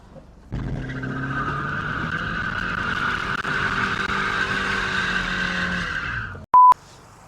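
A BMW E46 wagon drifts and sends out a long, loud, sustained tire squeal for several seconds as the engine revs underneath, then a short electronic beep follows.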